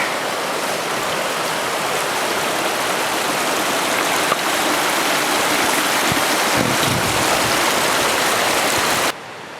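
Mountain river flowing in rainy, snowy wilderness, a loud continuous rushing wash of water that stays steady and close before dropping off abruptly at the end.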